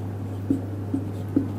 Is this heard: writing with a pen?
yes